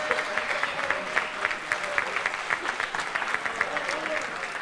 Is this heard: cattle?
no